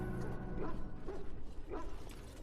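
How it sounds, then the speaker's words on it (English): Dog barking in the dark fantasy role-playing game Dragon Age Origins, in a haunted castle setting: a few short barks and yips in a steady rhythm, moderately loud over dense game sound and music. "I hear dogs."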